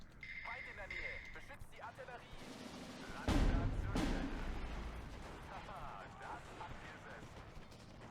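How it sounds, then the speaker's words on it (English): Mortar fire in the war strategy game Steel Division 2: a heavy boom lands mid-clip with a rumbling tail, followed by a second impact, among faint battlefield noise, with commentary talk running throughout. "I'm going to give my mortars there a chance to do some damage."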